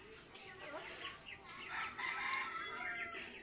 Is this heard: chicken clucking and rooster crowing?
yes